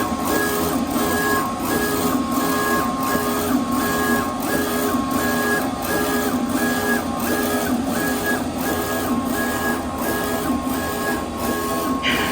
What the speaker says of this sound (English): Alright guys, so this is what the printer sounds like.